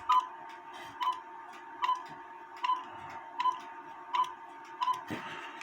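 A quarter-hour cuckoo clock ticks steadily and close by, with about seven evenly spaced ticks and a faint mechanical rustle between them.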